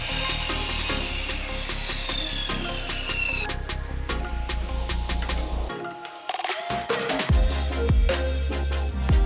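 Steady back-and-forth sawing on walnut, cutting 45-degree angles, close and fairly loud, with sharp clicks and scraping between strokes and a brief pause midway.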